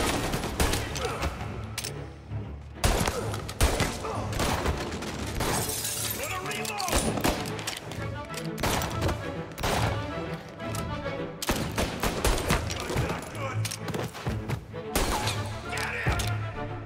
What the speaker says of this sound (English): he didn't have a pocket revolver, he had a machine gun